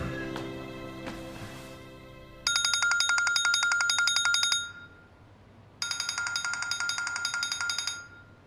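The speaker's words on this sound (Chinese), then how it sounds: "怎么不接电话呀？" A telephone gives an electronic trilling ringtone in two separate bursts with a pause between them, following a fading stretch of music.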